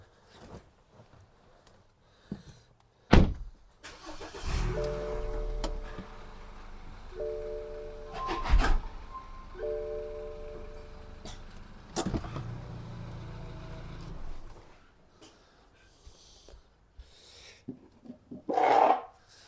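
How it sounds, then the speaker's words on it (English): A BMW 328i fitted with a Remus quad-tip exhaust pulls away, the engine rising through several revs with steady stepped tones, loud and close at first before easing off, with a few sharp clicks around it. "let's see this car driven off"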